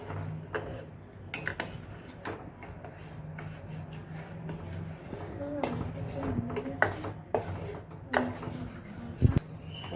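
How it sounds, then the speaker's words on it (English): A spoon stirs a sugar mixture in a pan on the stove until it melts, making repeated scraping and rubbing strokes against the metal with a few sharper clinks. The strokes come at an uneven rhythm, close and moderately loud. "Now we need to mix very nicely until the sugar melts."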